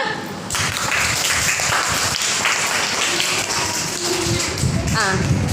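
A group of children in a classroom applaud together, making dense, continuous clapping that fills the clip, fairly loud and close, with children's voices mixed in near the end.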